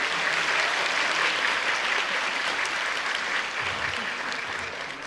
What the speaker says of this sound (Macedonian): Заслужува аплауз.